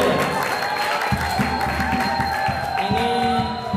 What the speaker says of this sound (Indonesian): Tepuk tangan buat Fatur ya